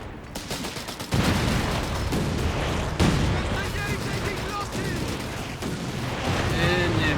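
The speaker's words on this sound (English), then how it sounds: "And we got Luckyman bringing his guns to halt and destroy the Bofors." Gunfire and explosions from Company of Heroes 3 as guns attack a Bofors anti-aircraft emplacement, dense continuous bursts of rapid shots and booms with high whining effects, loud and sustained.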